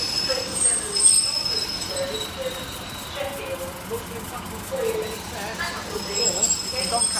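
A Class 156 diesel multiple unit train rolls steadily into platform 3A at Lincoln Central at close range, wheels rumbling on the rails with a thin high squeal, while people talk faintly nearby.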